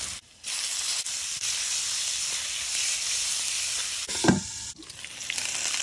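Garlic frying in hot bacon grease gives a loud, steady sizzle that fills the clip, with a brief stir or clatter near the end and no talking.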